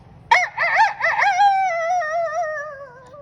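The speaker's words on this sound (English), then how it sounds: "they all heard the rooster crowing" A rooster crows once, loud and close, its long wavering call rising and then trailing off slowly over a faint low background hum.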